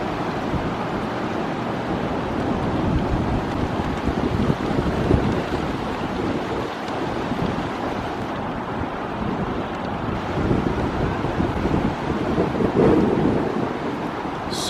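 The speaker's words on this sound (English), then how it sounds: "The wind is really picking up again now." Strong wind buffets a camera microphone outdoors, a loud, continuous rumbling roar with gusty surges and low thumps throughout, no talking.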